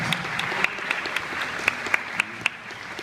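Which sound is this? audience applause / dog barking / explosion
audience applause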